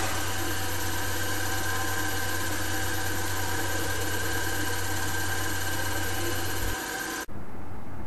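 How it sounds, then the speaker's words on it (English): Electric motor spinning steadily at 2000 RPM, a loud continuous hum with a strong low tone and whine, running unchanged until it cuts off abruptly near the end. "The speed of the motor is now 2000 RPM."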